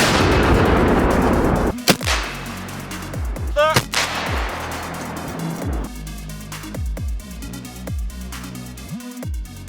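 A Ukrainian artillery gun booms out in several loud, sharp blasts, each followed by a rumbling echo, with a gap of a few seconds between shots.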